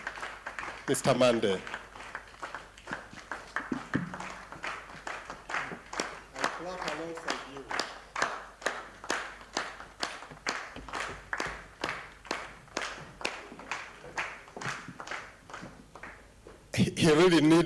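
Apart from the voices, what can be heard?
audience applause welcoming a speaker on stage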